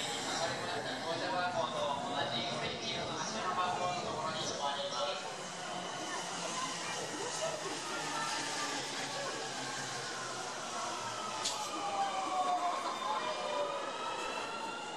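A Sunrise Express sleeper train in Japan rumbles steadily throughout, with screeching wheel tones and a continuous broadband roar that stays loud and even.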